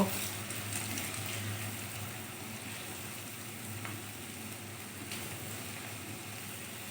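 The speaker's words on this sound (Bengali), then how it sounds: "আর খুন্তি দিয়ে ভালো করে নেড়ে দেব এইভাবে মুচমুচে করে ভেজে তুলব" Potato skins frying crisp in a pan and stirred with a spatula, a steady close sizzle with occasional soft scraping clicks, continuous and even.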